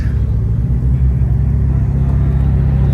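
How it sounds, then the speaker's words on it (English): A Ferrari 296 supercar rolls up on a Dubai street with a steady low rumbling engine note, close by and moderately loud, and no voices. "Another 296 pulling up."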